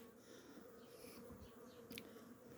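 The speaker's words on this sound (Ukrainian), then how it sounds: "тут бджоли літає" Honeybees buzz in a soft, continuous drone around a hive entrance, with occasional individual bees zipping closer past the listener.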